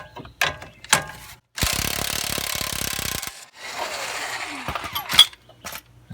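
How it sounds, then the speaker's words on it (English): An impact wrench with a 21mm socket loosens a front-end bolt on a Chevrolet Trailblazer. It gives a loud sustained rattling burst, then a second softer run, set among nearby clinks and tool handling, with no voices. "Let's get our 21mm socket on this side, impact wrench it"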